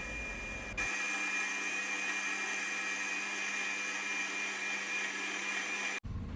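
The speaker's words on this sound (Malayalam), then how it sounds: "അപ്പോൾ ഒന്നുകൂടി ഒന്ന് അടിച്ചെടുക്കാം" A kitchen mixer grinder blends masala for homemade Alfaham chicken, its motor whining steadily and loudly for about five seconds after a brief start, then cutting off abruptly.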